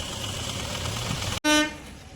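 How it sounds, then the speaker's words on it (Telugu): A Machilipatnam train passes a closed railway crossing gate: a steady rumble of moving carriages, then one short, loud horn blast that fades quickly. "ఇప్పుడు వచ్చేది మచిలీపట్నం ట్రైన్ అనమాట"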